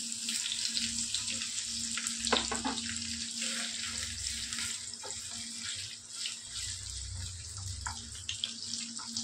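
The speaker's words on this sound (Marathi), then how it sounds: "यातच बटाटे फ्राय करून घेते." Potatoes frying in a pan for aloo do pyaza, a steady hiss and sizzle of oil with a few crackles and a light stir or clink partway through, close and continuous.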